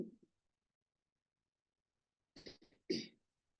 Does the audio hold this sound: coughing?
yes